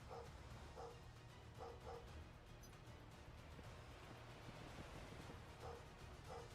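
A dog in Final Fantasy VII Ever Crisis gives short paired barks, repeating in quick bursts at a moderate distance over a low steady background hum, no talking.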